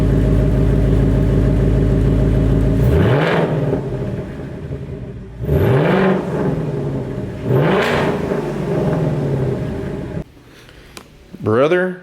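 A warmed-up 2024 Ford Mustang Dark Horse V8 with an X-pipe exhaust idles with a deep burble, then revs sharply three times to around 3,000 rpm. Each rev drops back to idle, with a short voice and a final blip near the end.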